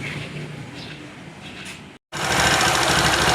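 A motorcycle engine runs after a timing and tappet adjustment with the carburettor refitted, a steady close mechanical chatter that briefly drops out and then returns louder and fuller.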